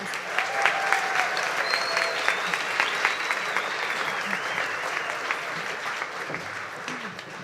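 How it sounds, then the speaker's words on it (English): An audience at a live community crowdfunding event applauds steadily and loudly, a dense continuous clapping with a few cheers and whistles on top. "Let's give a round of applause."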